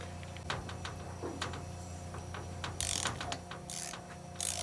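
A wrench ratchets in short bursts while a two-cylinder engine is torn down for scrap and its flywheel is removed. Sharp clicks come in separate bursts over a steady mechanical hum, and no one talks.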